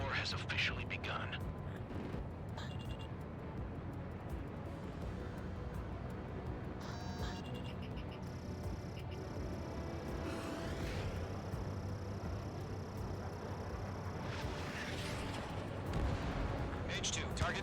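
Anti-aircraft guns pound and rattle in bursts during an air battle in Ace Combat 7, with explosions and jet noise mixed under shouted radio voices.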